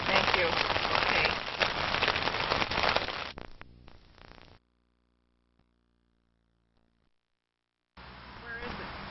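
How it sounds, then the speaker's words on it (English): Rain falling steadily at a county cemetery on a rainy day, a dense hiss of drops for about four seconds, then near silence before the patter returns at the end. "And it's a rainy day today."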